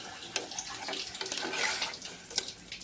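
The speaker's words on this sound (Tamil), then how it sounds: "இப்போ நம்ம தண்ணி ஊற்றிக்கலாம்" Water pours steadily into a pot for country chicken soup with a bright, splashing hiss, with a few louder splashes along the way.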